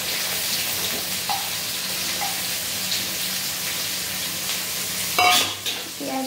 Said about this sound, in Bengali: পেঁয়াজগুলো নাড়িয়ে চাড়িয়ে ভেজে নেব।